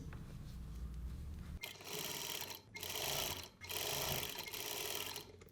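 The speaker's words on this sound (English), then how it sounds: "I'm sewing just 1/8 of an inch in from the edge." A sewing machine stitches along the edge of two joined fabrics, running in three loud, close bursts of rapid whirring separated by short pauses, with no talking.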